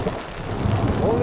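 Heavy rain and hail pour down in the middle of a big thunderstorm at a camping spot, a dense, steady hiss that swells a little toward the end, with a faint voice briefly audible.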